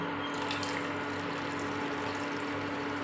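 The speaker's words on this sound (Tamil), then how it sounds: "பால் வந்து நான் ஆரோக்கியா பால் தான் இருக்குது அது அப்படியே எனக்கு தேவையான அளவு நான் ஊற்றிக்கிறேன்" Milk pours steadily into a pot for ginger tea, a continuous liquid trickle and splash heard close up with no talking.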